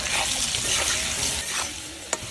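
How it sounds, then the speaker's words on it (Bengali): Potatoes frying with salt in oil left from frying pangas fish, a steady close sizzle with scraping stirs throughout and one sharp clink near the end, no voices. "আলুগুলো লবণ দিয়ে ভেজে নেই।"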